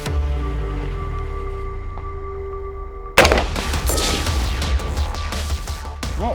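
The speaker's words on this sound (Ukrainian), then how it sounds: "Зараз звичайними грінтіпами постріляємо" After a few seconds of steady humming, sharp 5.56 rifle shots with standard green tip rounds ring out at a class 4 armor plate in a rapid burst, loud and close, followed by echoing cracks.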